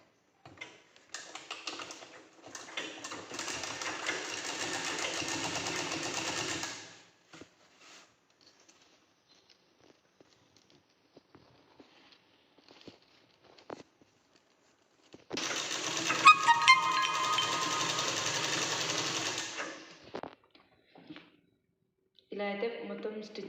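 Sewing machine stitching a long frock in two sustained whirring runs of several seconds each, separated by a quiet stretch with a voice talking and small handling sounds.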